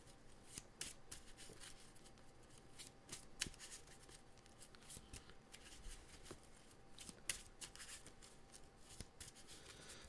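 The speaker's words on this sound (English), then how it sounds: "you think that's enough shuffling?" Magic: The Gathering cards being shuffled by hand, a steady run of soft riffling snaps and flutters repeating over several seconds, close and fairly quiet, with no talking.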